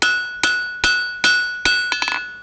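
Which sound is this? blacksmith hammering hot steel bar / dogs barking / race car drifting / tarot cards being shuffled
blacksmith hammering hot steel bar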